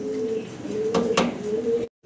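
A male fancy pigeon, a black-shield feather-legged bird, coos close by in a repeated throaty call with a couple of louder rough bursts in the middle, then stops abruptly.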